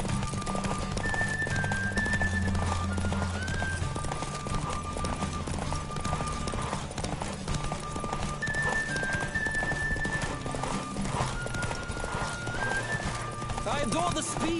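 Horse hooves gallop at speed in The Witcher 3, a steady clip-clop rhythm running throughout, with repeated neighs and whinnies rising over music and a voice talking.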